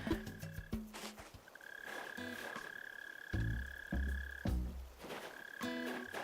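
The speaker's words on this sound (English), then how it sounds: "the first thing I hear is this confounded mole cricket" A mole cricket in the game Animal Crossing New Horizons gives a low, buzzy croaking trill in repeated pulses and short bursts, heard alone over a faint steady background tone.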